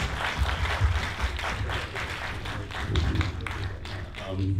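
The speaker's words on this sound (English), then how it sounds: "let's give another round of applause for our illustrious filmmakers" An audience at a filmmaker Q&A for a Viet Film Fest short film program applauds steadily for the filmmakers, a dense patter of clapping that runs through the whole stretch with voices mixed in.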